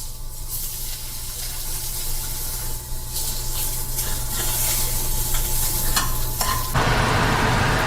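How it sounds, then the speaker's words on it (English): Beef frying in rendered fat in a pan on a stovetop for a Cayman-style dish gives a steady, close sizzle with scraping and stirring throughout, growing a little louder and brighter near the end. "So you basically fry down the piece of fat, and that now has created your oil, and then you're gonna go ahead and put the beef in from there"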